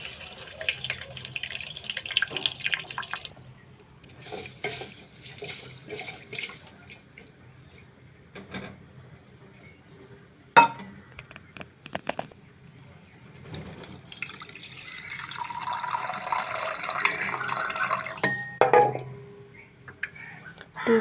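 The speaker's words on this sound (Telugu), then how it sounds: "నానబెట్టుకున్న మెంతుల్ని కొద్దిగా వాష్ చేయాలి వాటర్ వేసి." Water runs and splashes in a kitchen sink or bowl while soaked fenugreek seeds are rinsed, coming in intermittent bursts of pouring and swishing with quiet gaps and small clinks between.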